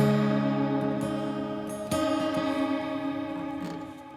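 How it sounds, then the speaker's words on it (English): A Lava Me Air guitar plays through its onboard shimmer reverb, strummed chords ringing out into a bright, sustained, washing tail, with a second strum near the middle and the sound slowly fading, no voices. "that's a really nice shimmer reverb"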